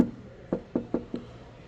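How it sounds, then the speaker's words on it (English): Four sharp knocks with knuckles on a refrigerator door panel in a shop, a quick uneven series of close, moderately loud taps over faint room hum. "So these ones here, you knock twice,"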